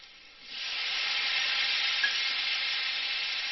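Tomatoes fry and get stirred in a pan of spiced oil while cooking mushroom kolhapuri, a steady close sizzle rising after a quiet half second and holding loud without pause, no voices.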